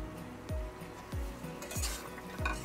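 Chicken lollipop pieces are stirred through masala in a pan, with four soft, evenly spaced scraping strokes over a faint sizzle.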